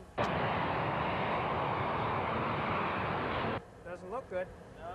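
Boeing 727 jet airliner weighing 146,000 pounds starting its takeoff roll in light snow, a loud, dense engine roar holding steady for about three and a half seconds before cutting to quieter background sound.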